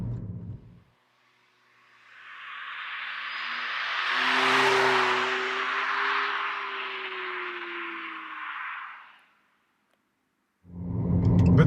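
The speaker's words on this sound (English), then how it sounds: "With the sound you sort of have the feeling that you still drive a petrol engine, because it gives sort of the vibrating of a normal engine." An all-new fully electric Abarth car drives past with its simulated petrol engine sound, a rising and falling hum with steady tonal drone that swells to a peak midway, then fades, bracketed by brief louder noise at either end.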